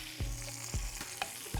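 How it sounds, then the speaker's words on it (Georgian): Meatballs fry in a pan with a steady sizzle, punctuated by a few soft knocks and stirs, close and alone without talk. "ხორცის ბურთები თითქმის მზად არის, უკვე დაიბრაცა"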